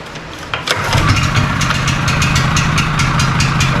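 Honda EB3000C portable generator, recently repaired after rough running and surging, starting with choke on: a brief cranking burst then catching into a loud, steady close-up idle.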